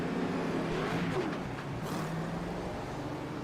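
Race car engines drone through a simulated ARCA eSports race at Watkins Glen International, a fairly faint, steady motor whine with a brief rising sweep near the middle and no voices.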